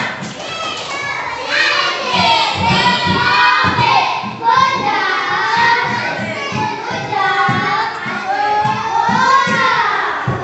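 Children in a classroom clap in a rhythmic, chanted cheer for a classmate, with many young voices calling out together over steady hand claps, close and lively.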